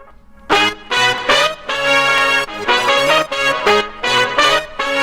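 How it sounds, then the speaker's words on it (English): Dance music drop with parallel Decapitator distortion, loud and punchy, its chopped rhythmic synth stabs pumping in regular bursts over a steady low end. "also, I also use distortion. So I use the decapitator in parallel."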